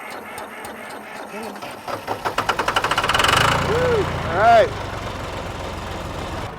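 An old, rough-running farm tractor cranks over in a rapid rhythmic chug, catches, and roars into a loud, uneven idle with a brief rev. Close by, someone speaks a couple of short exclamations.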